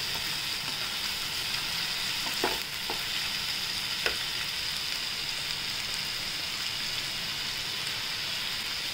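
A cauliflower and green peas curry with tomatoes sizzles steadily in a pan, a continuous close frying hiss with a couple of faint scraping stirs, no voices.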